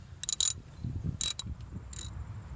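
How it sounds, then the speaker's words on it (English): A 15mm socket on a ratchet clicks in short, sharp bursts while loosening alternator bolts on a Chevy Trailblazer V8, three quick ratcheting runs close up against a low background. "So get the 15mm socket and ratchet."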